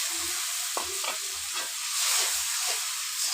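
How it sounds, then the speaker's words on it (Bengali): Ground spice paste with turmeric, salt and chili frying in oil in a pan, a steady sizzle with repeated stirring scrapes at a regular rhythm, close and fairly loud throughout. "এবার সবগুলো মশলা ভালো করে বেজে নেব"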